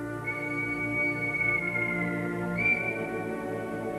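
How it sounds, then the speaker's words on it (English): The Flying Scotsman steam locomotive's sustained high whistle sounds twice, a long steady blast then a shorter one, over a continuous low mechanical rumble. "An impatient whistle signals the journey is about to begin."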